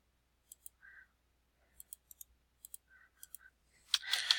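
Light, crisp computer mouse clicks in small clusters and double clicks, close and quiet, with a few soft rustles between and a brief louder scuffle at the end.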